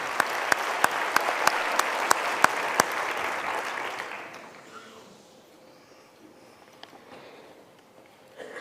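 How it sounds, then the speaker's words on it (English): Audience applause for the Wits Choir at a university graduation ceremony, a dense burst of clapping with sharp claps on top that fades out after about four seconds, leaving a quiet hall. "Another round of applause for the great Wits Choir, please"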